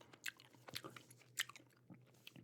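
Gum is chewed close to the microphone in an ASMR setting, with soft, moist clicks and smacks repeating in an uneven rhythm over a quiet background, without speech.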